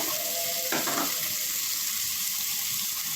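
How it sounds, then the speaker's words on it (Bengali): Water hits a pan of frying potato curry, setting off a sharp burst of sizzling that settles into a steady steamy hiss, close by and without speech. "পানি দিয়ে দিলাম যাতে একটু কষানো হয় পুড়ে না যায়"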